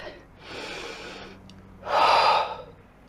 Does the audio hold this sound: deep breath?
yes